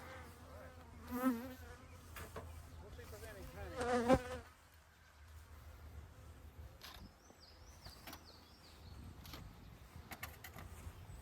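Small honeybees at a bee farm, a faint buzzing hum close by with a few louder swells early on, then a quieter background drone with brief clicks and rustles.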